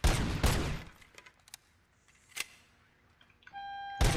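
Shotgun fire in the game RoboCop: Rogue City: two loud, booming blasts in quick succession, a sharper shot a moment later, then another blast beside electronic beeps at the end.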